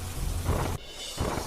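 Rain pours steadily under a cloudy monsoon sky with a deep, loud rumble of thunder rolling through, the downpour continuing as a dense, close hiss.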